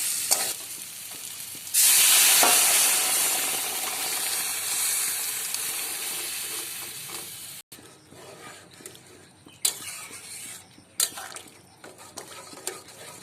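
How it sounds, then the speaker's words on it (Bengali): Potatoes frying with spices in a pan, boiled peas then tipped in: a loud, steady sizzle surges up and slowly fades, followed by scattered stirring scrapes and clinks of a spoon against the pot. "মশলার সাথে আলুটাও একটু কষানো হয়ে গেছে, এবার সিদ্ধ করে রাখা মটরটা দিয়ে দেবো"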